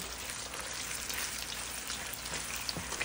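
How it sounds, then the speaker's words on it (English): Continuous crackling sizzle of chicken frying in hot oil in a wok, a dense popping hiss with no talking, steady from start to finish. "You're going to put your chicken in your hot oil."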